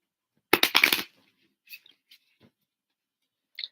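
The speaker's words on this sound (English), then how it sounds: "shuffle these cards." Tarot cards shuffled in quick riffling bursts near the start, followed by a few soft card taps and slides, close and fairly quiet, with no talking.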